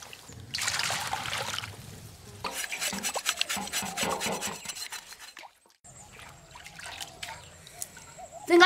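Hot water pours and splashes over a pig's head as it is rubbed and scrubbed clean in a home kitchen, with continuous trickling and rasping scrub strokes, a brief pause, then more washing.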